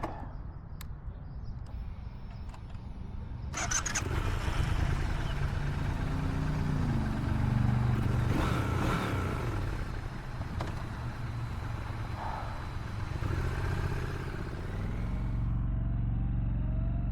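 A 2024 Triumph Scrambler 1200X motorcycle fires up after a few quiet seconds, then settles into a steady, close engine drone that rises as the bike rides off on the road.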